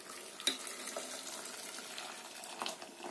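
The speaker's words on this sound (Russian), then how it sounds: "Я добавляю 2 литра воды." Water pours steadily into a pot with a soft, splashing rush, faint and close, punctuated by small clinks.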